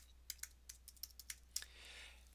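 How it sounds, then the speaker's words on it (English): Typing a journal name into a library search box on a computer keyboard: a quick burst of light, crisp keystrokes in an irregular rhythm, close and fairly quiet, with no voices. "you would type that in here."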